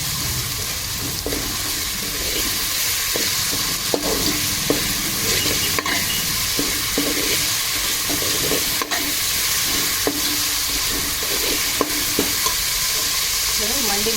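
Ginger garlic paste sizzling in a pan of hot oil, a constant loud frying hiss broken by repeated spoon knocks and stirring scrapes against the pan.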